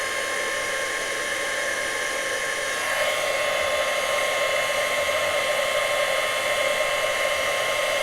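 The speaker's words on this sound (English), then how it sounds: "Obviously, the longer you use your heat gun, the faster it heats up and the faster it melts the powder." A heat gun blows hot air to melt powder, a steady whooshing roar that steps up louder and higher partway through, then holds constant with no talking.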